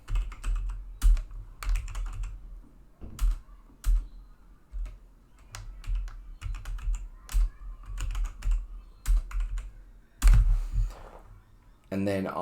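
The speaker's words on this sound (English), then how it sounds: "I cannot type today." Typing on a computer keyboard: irregular bursts of crisp key clicks at moderate loudness, with short pauses between runs and a louder flurry near the end.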